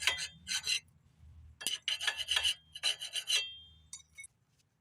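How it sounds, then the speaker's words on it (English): Rust being sanded off the surface of a brake rotor, close harsh rasping strokes in short bursts separated by brief pauses, several strokes in a row with no talking. "you might have to sand some of this rust down off the surface so it can finish flat now."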